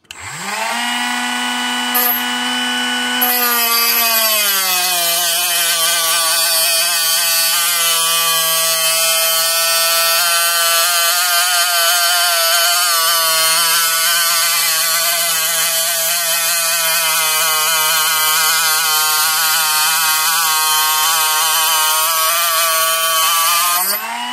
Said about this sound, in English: I'm going to, like I said, cut right there at the inside of where that U stops.